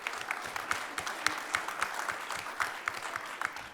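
A conference audience at AusCERT2022 claps during a speed debate session, giving scattered, moderately loud applause with distinct individual claps near and far that carry on for several seconds without any speech.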